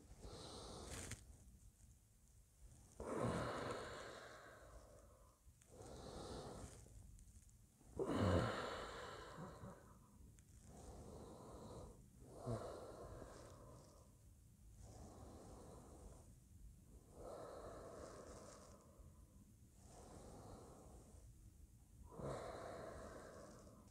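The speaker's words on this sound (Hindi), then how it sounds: "सांस लिया और सांस छोड़ा देखो एक बार फिर" Slow, deliberate breathing exercise: deep inhales and exhales alternate in a regular rhythm of roughly a dozen breaths, close and clear, with a few sharper sniffing intakes and no speech.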